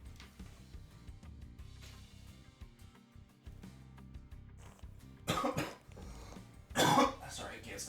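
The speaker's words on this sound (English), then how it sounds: "Sorry, I can't stop coughing." A person coughs in two loud, harsh bursts near the end, following a stretch of quieter background game audio and talk.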